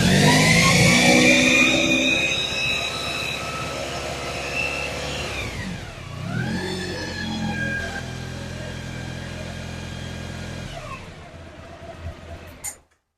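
A Honda ST1100 Pan European motorcycle with a charging fault revs hard at first, then its engine pitch falls and wavers through a lower revving stretch before settling and cutting off abruptly.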